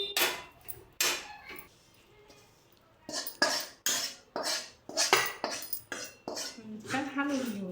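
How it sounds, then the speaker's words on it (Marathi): Dry pohe chivda being stirred in a pan with powdered sugar and salt, giving a series of loud scraping clinks and rustles in irregular bursts with pauses, with a brief voice near the end. "छान हलवून घेऊया."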